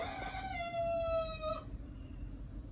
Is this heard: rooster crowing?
yes